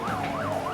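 Sirens wail from emergency vehicles, ambulance and fire trucks responding during a disaster rescue drill at the Gyeongju fire station, a steady rising and falling tone with a low traffic rumble beneath, loud and continuous.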